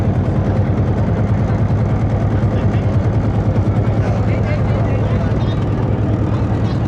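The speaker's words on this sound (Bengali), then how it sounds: "অবশেষে আমাদের ট্রলার যাত্রা শুরু করেছে।" A motorized trawler's engine drones loud and close with an even low throb as the boat sets off on a river near Faridpur on a winter morning.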